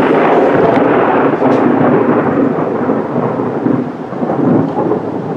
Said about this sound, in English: looks like we're getting a bit of a storm